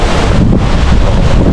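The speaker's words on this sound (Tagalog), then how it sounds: "napakalakas ng hangin" Strong wind buffets the microphone at an outdoor spot in Dingalan, Aurora, giving a loud, continuous low roar with no pauses and no voices.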